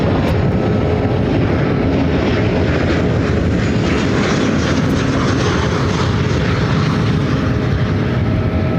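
A Southwest Airlines jet arriving at Ontario airport in California roars steadily for nine seconds, a loud sustained engine rumble with broadband whine and no talk over it.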